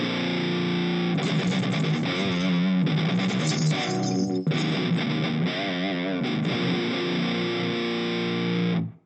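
A heavily overdriven electric guitar through a Tube Screamer-style overdrive plays a continuous thick, distorted riff, loud and sustained throughout with shifting chords and no gaps.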